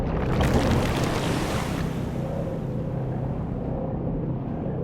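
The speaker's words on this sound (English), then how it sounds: "the Alliance's camp disappeared under waves of water with a very satisfactory gurgling" A burst dam in the fantasy strategy game Dungeons 2 sends waves of water rushing and gurgling over an enemy camp, a loud continuous churning wash that starts dense and splashy then settles into a steady lower roar.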